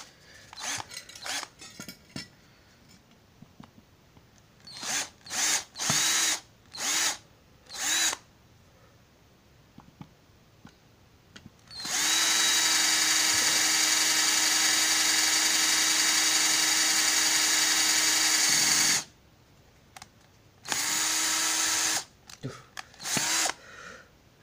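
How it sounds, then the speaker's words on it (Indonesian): A small electric drill runs in short bursts at first, then holds a long steady high-pitched whine for several seconds before stopping and starting again in brief pulses, with no talking. "Kelemahan bor kecil kayak gini nih."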